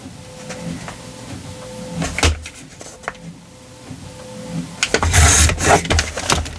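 Trimming book pages with a paper cutter: scattered wooden knocks, slides and handling sounds, ending in a louder, longer cutting crunch near the end.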